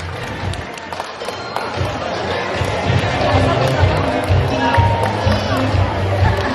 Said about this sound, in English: And there we go back to the applause for our green macaw